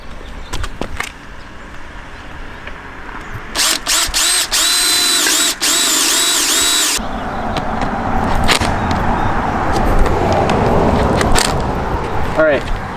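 Power drill boring holes in a scrap piece of metal lubricated with liquid wrench as cutting oil during a bucket seat install in an RX7: a loud sustained whining drill burst mid-clip, with clanks and handling noise around it.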